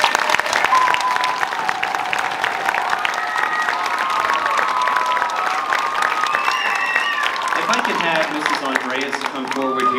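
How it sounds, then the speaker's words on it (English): An audience at a school spring program applauds loudly and steadily, a dense round of clapping with some cheering, while voices speak and a few children's calls rise over it toward the end. "Let's give them one more round of applause."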